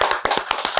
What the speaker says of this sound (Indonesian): Tepuk tangan sekali kita.